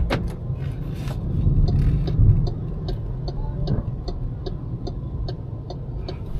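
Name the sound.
car driving quietly in electric mode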